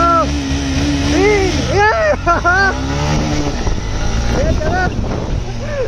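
A Pulsar NS125 and a Honda SP 125 accelerate in a drag race with a loud, close, steady engine roar and wind buffeting. Someone speaks excitedly over the noise.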